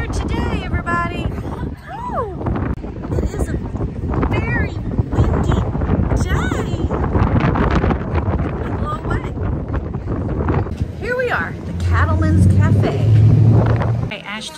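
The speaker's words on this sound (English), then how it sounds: "It is windy here today" Gusty wind buffets the microphone in a loud, continuous rumble while people talk over it.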